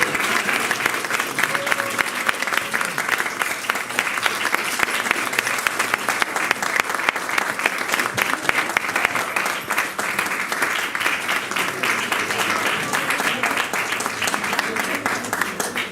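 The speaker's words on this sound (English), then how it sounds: "Please give them a round of applause." Audience applause at a stage performance at Radhadesh, sustained, dense clapping from a large crowd at a steady level throughout.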